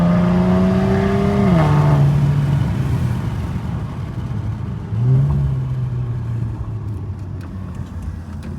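A car engine roars loudly as it revs up, its pitch climbing, then drops and surges again through another hard acceleration.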